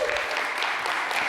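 Applause from a conference audience at the closing remarks of a crypto developer event, a dense steady clatter of many hands clapping, loud and close, with no break for its short length.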